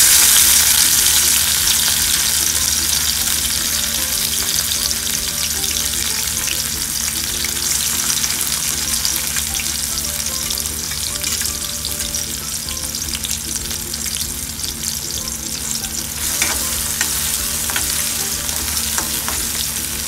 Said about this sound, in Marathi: तेल तापलंय, आता यामध्ये जाईल कांदा, बारीक चिरलेला कांदा आणि टोमॅटो।